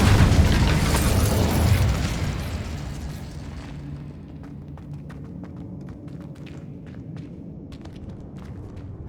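An Incendio fire spell bursts in Hogwarts Legacy with a loud, broad whooshing blast that fades after a couple of seconds. Scattered light clicks and soft game ambience follow.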